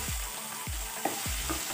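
Diced boiled potato is stirred into sabudana frying in a pan for sabudana khichdi: three slow scraping strokes, evenly spaced, over a steady close sizzle, with no voices.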